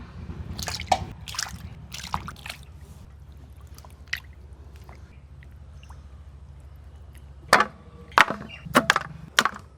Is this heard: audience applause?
no